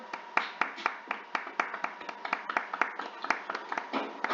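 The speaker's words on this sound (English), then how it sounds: "Please unmute yourself, make some noise, clap, whatever." Scattered clapping from a few online participants after unmuting on a call, light uneven hand claps coming through thin and somewhat distant, with no voices over them.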